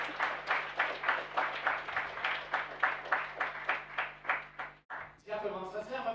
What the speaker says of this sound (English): let's also applaud to the people who have implemented this hackathon